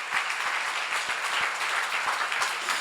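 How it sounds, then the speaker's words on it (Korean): A church congregation at a seminar claps hard and fast, a dense, loud, steady burst of applause lasting about three seconds with no talk over it. "여러분 박수 세게 쳐요"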